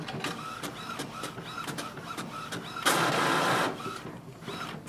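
An Epson WorkForce Pro 3820 inkjet printer prints a page nearby, with rhythmic mechanical clicks and whirs from the print head passing back and forth, a louder paper-feed rush in the middle, then the repeated carriage ticking again.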